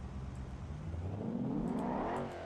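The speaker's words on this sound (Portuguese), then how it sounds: "Aqui tá com um ronco bem diferente. Deve ser V6." A V6 car engine in the driving game BeamNG.drive revving up, a mid-pitched growl that rises steadily in pitch and then eases off near the end, with no talk over it.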